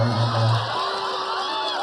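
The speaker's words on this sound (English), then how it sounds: "Scott, big round of applause for Scott Edwards" A comedy club audience cheers and whoops for club owner Scott Edwards, a short loud swell of crowd voices that quickly fades into a lower murmur.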